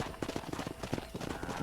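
Horse hooves gallop in Red Dead Redemption, a quick, faint run of rhythmic clip-clop beats lasting under two seconds.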